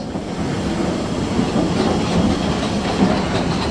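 The Jumbo Express steam train at ZSL Whipsnade Zoo rolls past with a steady rumbling roar, faint hiss and continuous rail noise, close and loud throughout.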